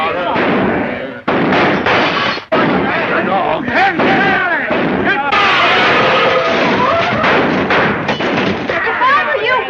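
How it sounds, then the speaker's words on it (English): Shotgun blasts at trap shooting in a 1942 film, several sharp reports cutting through ongoing talk and voices, loud and close. "Hey, fellas, trap shooting."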